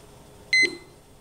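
A kitchen timer gives one short, sharp electronic beep, close and clear against a quiet room while wheat beer is brewing at a rolling boil.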